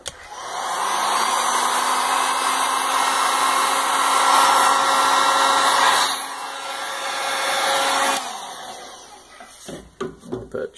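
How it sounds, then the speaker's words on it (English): Heat gun blowing a steady, loud airflow roar while shrinking heat shrink tubing around a resistor in box mod wiring, holding for about eight seconds before dipping and cutting off into handling clatter. "We're going to put some heat shrink tubing around that to isolate it from those other pins."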